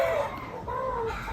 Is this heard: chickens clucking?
yes